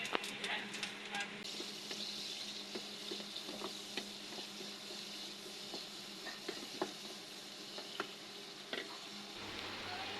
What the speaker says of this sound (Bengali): এখন রান্না করা হবে সেজন্য কড়াই পেঁয়াজ মরিচ দিয়ে দেওয়া হয়েছে